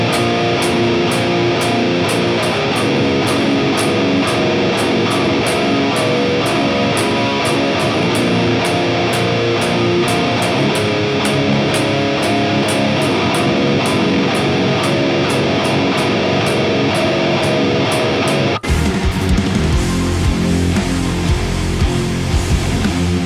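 A heavily distorted electric guitar plays a song's chord progression in a dense, continuous wall of sound, loud and close, with a sudden tonal change near the end.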